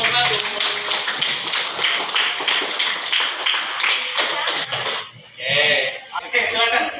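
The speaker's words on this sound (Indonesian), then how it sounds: "Beri tepuk tangan buat kelompok 1." A classroom of students applauds a group presentation, a dense burst of clapping that carries on for about five seconds before breaking into scattered claps and voices.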